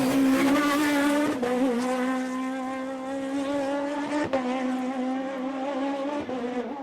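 Loud and sustained, a four-cylinder Peugeot 306 Maxi Evo race car screams up a hillclimb course, its engine note dipping sharply at gear changes around the second and fourth seconds, with brief tire noise and no voices.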